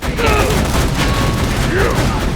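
Gun firing purple slag bullets in the shooter Borderlands 2, a loud burst of rapid shots with whooshing projectile sweeps over a dense battle din, close and continuous for a couple of seconds.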